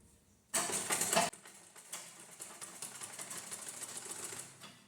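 Sewing machine stitching a blouse, with a loud close burst of fast rhythmic needle clatter for under a second, then a steadier, quieter run of stitching that continues to the end.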